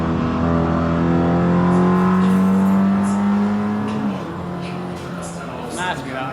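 A race car engine in an NLS endurance race drones loudly and steadily, its pitch holding high then dropping as the car brakes hard into a corner, with a voice talking over it.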